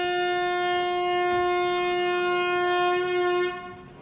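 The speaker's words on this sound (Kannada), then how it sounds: "ನಮ್ಮ ಟ್ರೈನು ಸ್ಟಾರ್ಟ್ ಆಯಿತು" A train pulling out of Miraj station on the Miraj–Belagavi route sounds a long, loud, steady horn blast with rich harmonics, which cuts off near the end and leaves quieter running noise.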